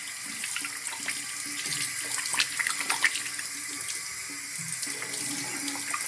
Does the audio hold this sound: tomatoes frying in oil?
no